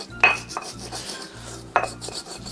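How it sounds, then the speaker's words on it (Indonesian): Spices being ground in a stone mortar and pestle (ulekan) while frying homemade tempeh, with two sharp scraping strikes and softer rhythmic rubbing and grinding strokes in between, close and fairly loud. "Tak ngulek iki sik pemirsa."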